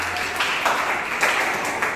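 A church congregation claps together in a steady rhythm at a Sunday service, loud and close, with broad room noise and some voices mixed in.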